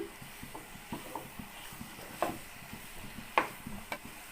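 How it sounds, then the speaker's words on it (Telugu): Bitter gourd pieces frying in a pan for a curry, giving a low, steady sizzle with faint stirring scrapes and a few sharp ticks of a spoon against the pan, heard alone without talk. "కాకరకాయలను ఇలా వేయించుకుందాం"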